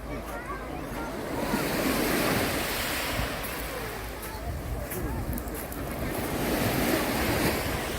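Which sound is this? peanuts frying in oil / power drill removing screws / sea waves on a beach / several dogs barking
sea waves on a beach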